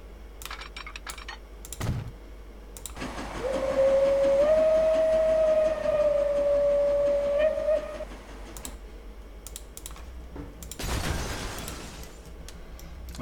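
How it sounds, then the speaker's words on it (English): A narrow gauge train in the Transport Fever video game sounds one long, steady whistle lasting several seconds mid-clip, surrounded by the clicking of a computer keyboard. "I can add far more narrow gauge trains on here now."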